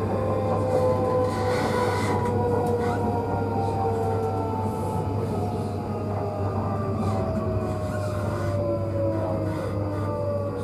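South Western Railway Class 458 Juniper electric train running, with a steady loud rumble and hum throughout and rising and falling whining motor tones, heard from on board without talk.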